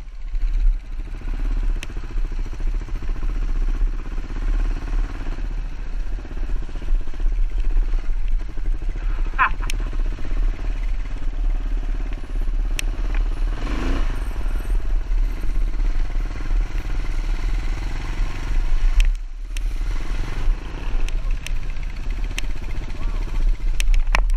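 A heavy Kawasaki KLR650 on dual-sport tyres ridden through Illinois makes a continuous engine drone with rattling clatter and wind rush, a muffled voice at times surfacing over the steady ride noise.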